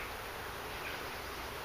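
A small honey bee colony with bees fanning at the hive entrance, giving a steady, even hum that holds without a break for under two seconds, close and fairly quiet.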